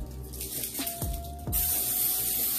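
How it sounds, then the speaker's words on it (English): A can of cooking spray hisses in a steady, close burst into a pie dish after a few soft knocks, the spray continuing loudly to the end. "I'm just going to spray"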